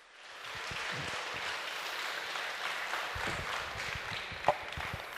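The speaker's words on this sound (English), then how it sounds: "give yourselves a nice round of applause" Students clap together in a modest round of applause at a lecture by an astronaut at Skyhawk Aviation in South Africa, a steady patter of hands that swells and continues evenly, a little distant.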